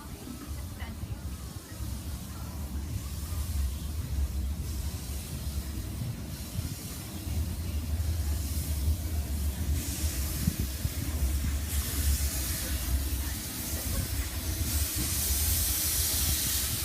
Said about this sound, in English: we like to get up to full pressure and blow off, test the safety valves and test the injectors